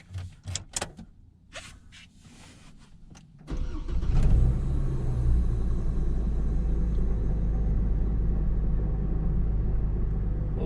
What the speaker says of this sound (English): Customer says when the truck is running he hears a growling noise